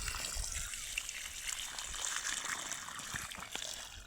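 Water trickles and splashes softly onto cauliflower seedlings in a field bed, a faint, continuous pouring sound outdoors with no talking.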